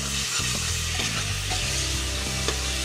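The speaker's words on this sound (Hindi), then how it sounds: "प्याज को हम 2 से 3 मिनट तक अच्छे से भून लेंगे।" Onions fry in oil in a pan for Punjabi rajma masala, giving a loud, steady sizzle with faint scraping and stirring sounds through it. Nobody speaks.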